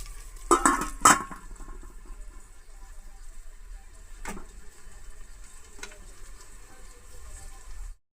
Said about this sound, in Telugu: కొంచెం వేసేసి ఇలాగా కలిపేసి ఒక రెండు నిమిషాలు మూత పెడదాం